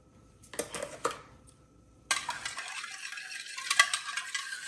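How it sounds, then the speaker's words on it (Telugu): Spoon stirring salt into Ugadi pachadi, a Telugu festival chutney, in a bowl: a couple of brief scraping clinks early, then a steady close scraping, stirring sound that runs continuously to the end. "ఉప్పు కూడా కలుపుతున్నా"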